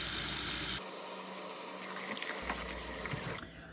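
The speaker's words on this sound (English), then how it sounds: "So I'm gonna take my lettuce and I'm gonna wash it" Lettuce being swished and washed in a bowl of water, steady watery splashing and running noise close by, ending with a drop in level.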